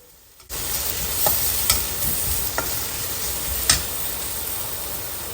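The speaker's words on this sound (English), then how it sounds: "we're going to add the chopped up beans and the" Chopped green peppers and beans drop into a hot garlic and ginger mix and start sautéing, a sudden rush of loud, steady sizzling with a few sharp clicks of the stirring spoon.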